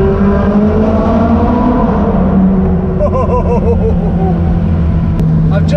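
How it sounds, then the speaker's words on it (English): A Ferrari 458 Spider's engine drones loudly from inside the car while driving near Las Vegas, a steady rumble with rising and falling revs and a deep underlying road roar, with someone talking over it at times. "now driving a Ferrari 458 Spider"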